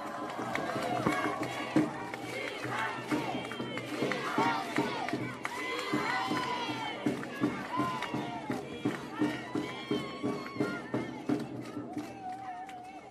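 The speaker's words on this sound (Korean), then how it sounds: "큰 박수 부탁드리겠습니다." A crowd at an outdoor election campaign rally in a station plaza in Daejeon, South Korea, claps and cheers, with a busy mix of voices and shouts that settles into rhythmic, pulsing clapping toward the end.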